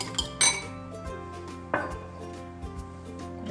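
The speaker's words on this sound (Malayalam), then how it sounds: "പിന്നെ ഒരു മുട്ട നല്ലോണം അടിച്ചെടുക്കണം." A single egg whisked in a bowl with a pinch of salt as part of a banana bread roll snack, heard as clinking utensil strikes against the dish, a few sharp taps with light scraping between, close and without talk.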